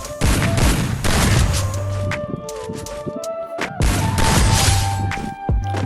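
Gunfire in the Free Fire mobile game, played in lone wolf mode, comes in two sharp, loud bursts of rapid automatic shots. Single cracks and clanks sound between the bursts.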